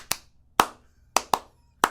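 Sharp, close hand claps for a recorded clap track ring out one at a time, five in under two seconds at an uneven pace, each crisp with a short decay, with nothing else heard.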